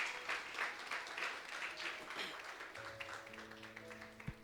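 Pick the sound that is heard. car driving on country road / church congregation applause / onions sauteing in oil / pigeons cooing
church congregation applause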